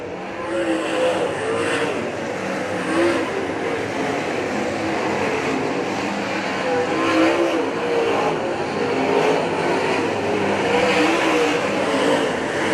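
Late model stock cars roar continuously around a dirt track in a feature race, a loud dense engine drone with passing whines rising and falling as cars go by.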